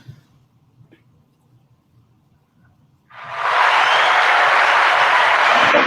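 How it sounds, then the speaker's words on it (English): Loud, sustained audience applause with dense hand clapping bursts in after a quiet stretch and holds steady to the end, at a tribute event honoring Ossie Davis. "Hand claps."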